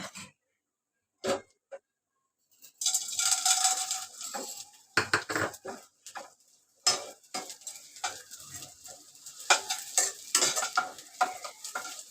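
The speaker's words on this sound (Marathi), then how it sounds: "जरा डिंक मी तळून घेते" Edible gum (dink) fries in a pan for methi ladoo, a crackling sizzle that starts after a quiet opening and is broken by repeated metal scrapes and clinks of the spatula against the pan.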